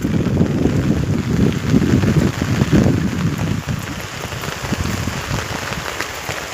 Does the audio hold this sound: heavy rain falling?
yes